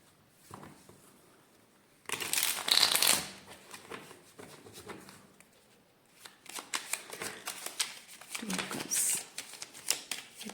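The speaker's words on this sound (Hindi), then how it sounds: "भाई ये कार्ड अच्छे से शफल नहीं होता, इतना छोटा छोटा टाइनी टाइनी बेबी कार्ड्स।" Tiny baby-sized playing cards shuffled by hand in repeated bursts of riffling and crackling, with a louder flurry early on and more scattered shuffles later, nearby and under occasional talk.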